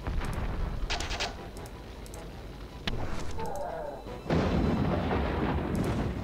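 Cannon and gunfire from the battle game Warhammer: Dark Omen, set at Helmgart, sound as repeated booming blasts and rumbling explosions with sharp crack-like bursts, loud and dense, rising in intensity toward the end.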